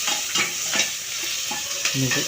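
Sea shells and papaya sauté in a hot pan, a steady sizzle punctuated by several close metallic stirring scrapes and clatters.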